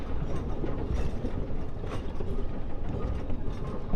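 A wood-burning Shay steam locomotive hauls cars along a logging railroad, its geared running gear and wheels clattering in a dense, rhythmic mechanical rumble, continuous and close.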